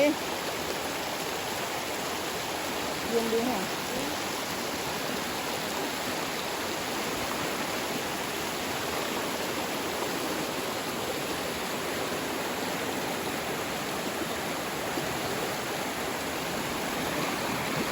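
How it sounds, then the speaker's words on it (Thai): Water flows steadily through a forest stream at a bamboo-shoot gathering spot, a continuous broadband rush that holds even and close for the whole stretch, with a brief voice rising faintly above it near the start. "น้ำไหล"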